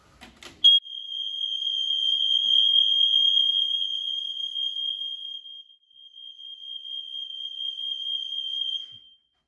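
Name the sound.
smoke alarms sounding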